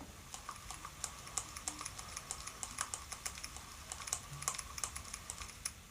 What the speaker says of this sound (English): So that clicking you're hearing is a little bit of play.